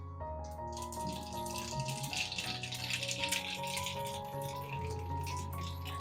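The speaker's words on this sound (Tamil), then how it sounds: "அதுக்கு கடுகு உளுத்தம் பருப்பு தாளிச்சிக்கலாம்" Mustard seeds and urad dal sputter and crackle in hot oil for a banana curry, a steady close sizzle with rattling pops over a constant hum, no voices.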